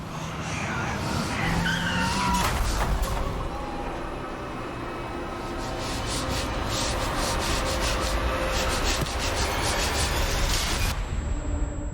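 A car in the horror video game The Outlast Trials drives and crashes, heard as a continuous loud rumble with scraping, skidding and grinding texture, plus a burst of sharp impacts and clatter toward the end.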